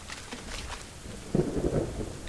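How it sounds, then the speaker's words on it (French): In the video game Ark, a loud thunderstorm rumbles: a heavy thunder crack and low roll arrive about halfway through, over a steady hiss of falling rain. "je t'avoue que l'orage, j'aime bien ça, mais là, il claque fort"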